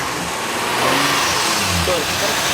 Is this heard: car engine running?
yes